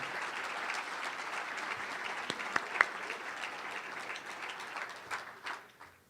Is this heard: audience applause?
yes